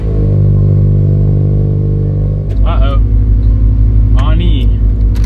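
A Scion FR-S engine idles loud and steady with a low rumble as the car is backed slowly into the center of a shop, while a voice talks over it.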